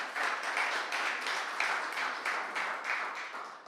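A church congregation breaks into applause: dense, rhythmic clapping with pulsing swells, moderately loud and continuous for several seconds, with no voices over it.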